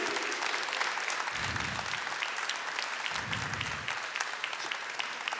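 An audience at a religious talk gives a sustained round of applause, dense and even, with two short bursts of a voice cutting in partway through.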